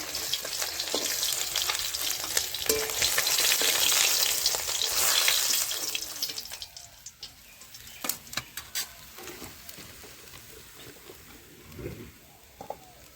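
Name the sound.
katla fish frying in oil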